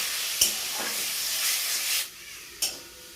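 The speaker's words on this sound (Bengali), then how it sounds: "নেড়ে চেড়ে ভালো করে নেড়ে চেড়ে নেবো" Small fish cooked with mango, turmeric and salt being stirred in a pan in a village kitchen, giving a steady sizzling hiss with a few brief scraping clicks.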